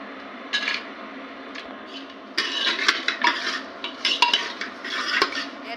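A spoon stirring and lightly roasting dry fruits in melted ghee over a low gas flame: close, busy scraping and clatter against the pan over a faint sizzle, with no talking.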